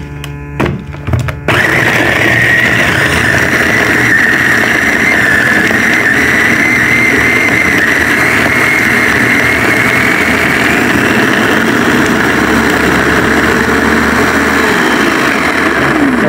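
A food grinder whirs loudly and steadily as it grinds carrots and tuna, the motor kicking in after a brief clatter and then running continuously at high volume.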